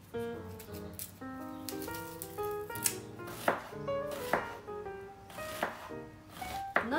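A knife chops a small onion on a board in a steady run of crisp, close taps, with music playing throughout.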